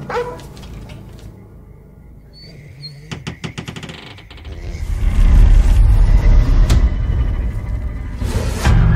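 A dog in a forest gives sharp barks and whimpers, followed by a rush of louder rumbling movement as it runs off, all set against an eerie film soundtrack.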